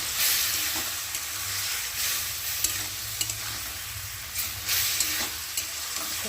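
Mustard paste fried in oil for a pabda fish dish, stirred in the pan: a steady close sizzle with intermittent scraping strokes of the spatula, no voices.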